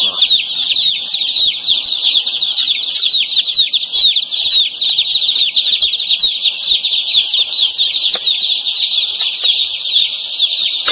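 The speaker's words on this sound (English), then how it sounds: "We want to hear a lot of chirping." Dense chirping of many newly arrived chicks on a farm, a loud, continuous high-pitched chorus of overlapping peeps lasting throughout with no pauses.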